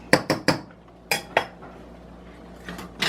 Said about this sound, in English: Use a whisk because I'm impatient.